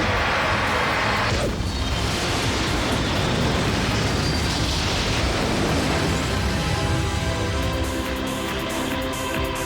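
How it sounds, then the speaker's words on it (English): A charged beam weapon firing in the cartoon Teknoman, heard as a loud, sustained roaring blast with a sharp surge early on, then a long rushing, crackling tail. "About time you showed up, coward! Charged beam weapon!"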